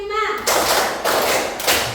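A classroom of students claps together in an ice-breaker: a brief voice at the start, then a few sharp, loud group claps in unison, spaced about half a second apart.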